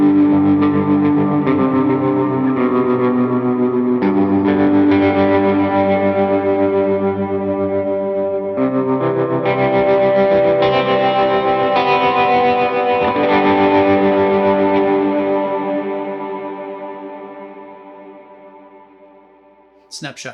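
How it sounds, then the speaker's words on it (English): Les Paul electric guitar through a heavily effected preset with reverb, echo and chorus, ringing sustained chords that swell and wash together for about twenty seconds before fading away, loud and upfront. "All right, let's hear it on a Les Paul."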